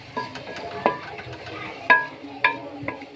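Cauliflower being stirred into masala in a hot pan for a dhaba-style phool gobi sabzi, with a soft sizzle underneath and a few sharp spoon clinks against the metal pan, close up.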